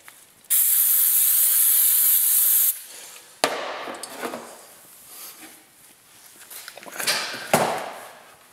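Brake cleaner sprayed onto a Subaru 2.5 SOHC cylinder head in a loud steady hiss lasting about two seconds, followed by quieter clicks, dripping and handling of the head.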